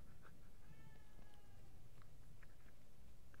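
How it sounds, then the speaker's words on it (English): A cat in the horror video game The Evil Within 2 gives several faint, short meows against a dull, muffled rumble of game ambience, with no one speaking. "I was confused why I was hearing a cat."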